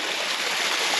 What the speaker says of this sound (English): Tons of little waterfalls out here like this.